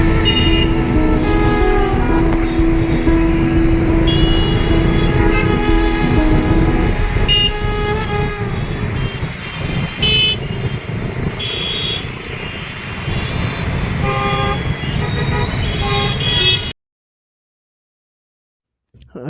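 Dense evening traffic jam in Vijayawada heard from a bike, with engines rumbling and repeated car horns honking at varying distances, steady and loud throughout before cutting to silence near the end.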